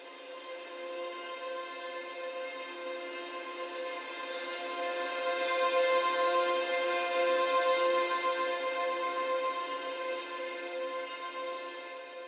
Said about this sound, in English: it's a violin texture called Tremolo sul Ponticello